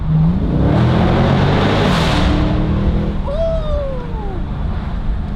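A Dodge Scat Pack's stock exhaust roars loudly and steadily while accelerating under a bridge, with a rising whine toward the end and faint voices mixed underneath.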